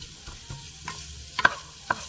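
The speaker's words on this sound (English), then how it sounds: "Just gonna brown the sausage. And like I said, this is Italian sausage." Italian sausage for zuppa Toscana browns in a pan, with a soft sizzle and a few light scrapes and taps of a utensil stirring it, close by and with no voices.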